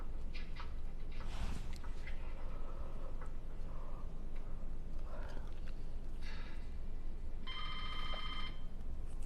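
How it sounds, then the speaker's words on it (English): An old-fashioned telephone bell rings in short bursts beneath a steady background hiss, with a few fainter sounds scattered before it. "That is an old school phone."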